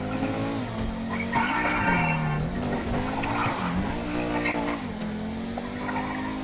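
A car engine roars while tires squeal continuously in long wavering screeches, loud and close, with revving rising and falling throughout.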